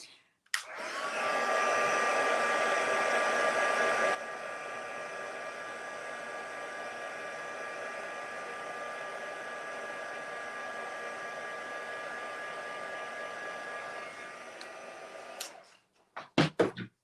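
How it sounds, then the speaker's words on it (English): A heat tool blows steadily to dry white ink on stamped paper, a loud whirring fan rush that steps down slightly in level after a few seconds and runs continuously for about fifteen seconds before clicking off. "let me just hit that with a heat tool"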